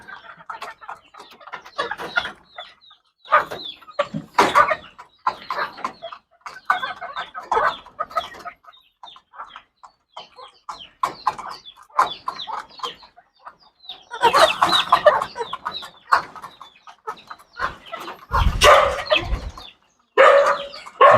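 Chickens cluck in irregular bursts, close by, with scattered squawks and a few louder calls near the end.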